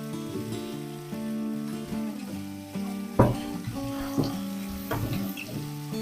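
Potatoes and green chillies frying in a pan give a steady sizzle with brief louder bursts as pieces are added and stirred, close and fairly quiet throughout.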